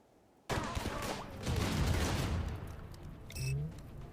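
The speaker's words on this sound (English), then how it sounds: "this is the autocannon, I think" An autocannon fires in the RimWorld video game, with a sudden loud burst followed by a sustained rumbling fusillade of rapid shots. It fades slightly, then swells again near the end, where a brief electronic tone is also heard.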